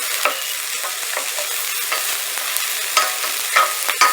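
Alligator pieces sizzle and fry in a hot pan while being stirred quickly, giving a steady close hiss broken by scraping clicks of the utensil against the pan.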